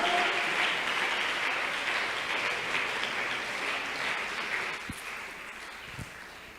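A church congregation bursts into sustained applause during a worship service, a dense wash of clapping that fills the room steadily and thins slightly toward the end, with a couple of brief knocks near the close.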